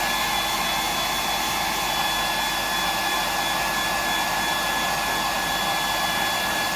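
Hair dryer blowing continuously to dry paint on a fishing lure, a loud, steady whooshing hum close by with no breaks and no talk.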